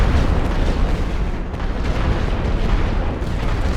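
A rolling artillery barrage thunders in a Great War western front game, dense continuous booms and rumbling blasts piling on one another, loud and unbroken for the whole stretch, with no speech.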